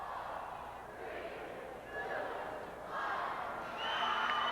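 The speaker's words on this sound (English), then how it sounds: "you can hear the crowd count it down" A crowd at a 1980 Wisconsin state high school wrestling final chants a rhythmic countdown of the final seconds, rising in steady swells of voices from across the arena.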